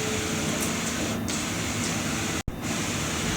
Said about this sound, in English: I love to watch prints come out of the printer.